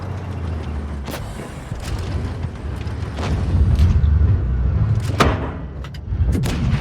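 A tank shell strikes an enemy tank in a video game, giving a heavy, muffled boom and several sharp thuds over a constant low engine rumble.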